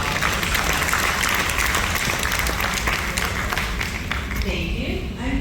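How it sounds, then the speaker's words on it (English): Steady audience applause at a hot glass demonstration at the Corning Museum of Glass, a dense, continuous patter of many hands clapping at close range for several seconds. "Let's give these two a big round of applause."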